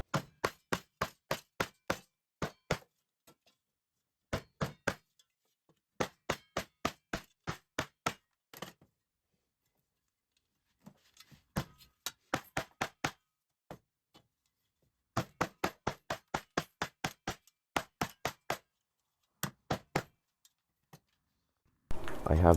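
A steel breastplate's lower placard is dished with a hammer for a 15th-century gothic breastplate: bursts of rapid, evenly spaced metallic blows in several runs, separated by short pauses, close and fairly loud, with no talk.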